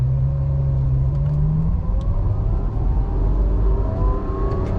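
A 2014 Ferrari F12 Berlinetta pulls away from a standstill in first gear, its engine note climbing steadily and loudly in pitch from inside the cabin.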